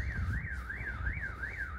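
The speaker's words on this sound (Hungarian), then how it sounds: "Remélem az a riasztó nem zavarja őket." A car alarm wails steadily in the distance, its siren tone sweeping up and down in a regular rhythm over low background rumble, with no talking.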